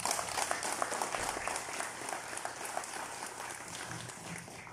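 Steady applause from an audience at an award ceremony for restaurants, a continuous even wash of clapping that lasts the whole stretch with no voices over it.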